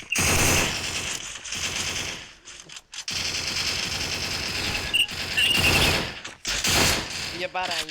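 In the Free Fire video game, an MP5 Bizon fires long, loud bursts of rapid automatic gunfire, broken by a few short pauses.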